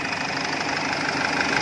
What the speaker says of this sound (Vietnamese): Anh chị thấy máy đang nổ máy.